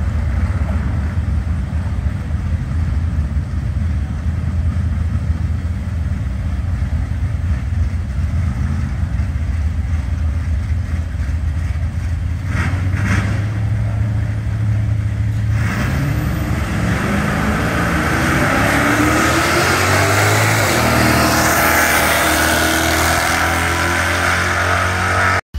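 Race car engines roar steadily at the Moparty car show in Bowling Green, Kentucky, a sustained loud drone that shifts pitch as a car accelerates and revs past, rising in intensity toward the end.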